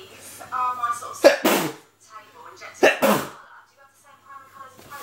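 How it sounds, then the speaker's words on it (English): A man sneezes twice, sharp explosive bursts about a second and a half apart, close and loud, with his speech and breathy sounds before and between them. "Oh, I'm going to sneeze, I think."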